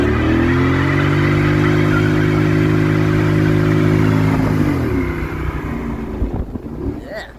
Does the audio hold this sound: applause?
no